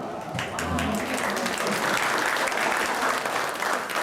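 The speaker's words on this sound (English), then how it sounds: "that is probably the biggest round of applause you will ever get for being called a roommate" Guests at a 50th anniversary party break into loud, close applause for a couple who traveled from Illinois, a dense burst of clapping with a brief voice at the start, sustained throughout.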